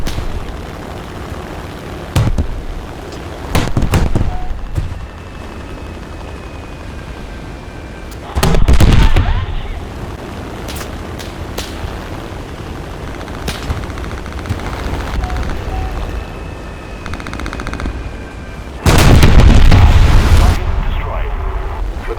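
War Thunder naval battle at Wake Island, with sharp bursts of gunfire and several heavy booming explosions over a continuous rumble of engines and combat, with voices speaking at times.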